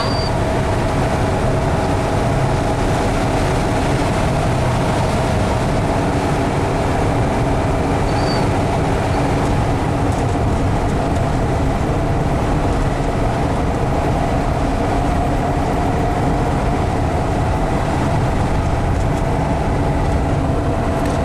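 A 1974 Volkswagen Westfalia automatic van drives into a headwind, with a loud, constant engine drone and road and wind roar filling the cabin without a break.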